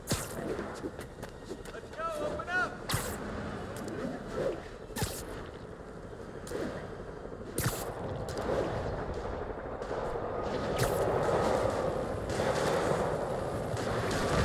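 Scattered gunshots crack out in sharp bursts amid street combat in Marvel's Spider-Man Remastered, mixed with footsteps, impacts and a background of game speech.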